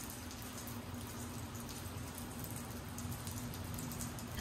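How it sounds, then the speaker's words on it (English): Steady rain falls outside a truck camper, a dense, even patter of drops on the roof and surfaces with a low, constant hiss and no voices. "It is raining today."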